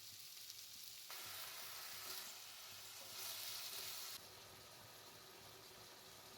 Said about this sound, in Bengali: আলুগুলো আমি অল্প করে ভেজে নেবো আগে শাকের জন্য।